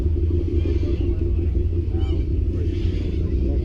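Square-body Chevy engine at a cars-and-coffee meet, a steady deep low rumble idling close by and continuous throughout, with faint voices in the background.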